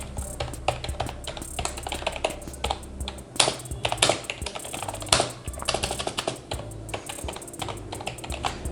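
Keys are pressed rapidly on a Redragon K512 Shiva membrane gaming keyboard, producing a dense stream of close, crisp clacks and taps in irregular bursts, heard alone without voices.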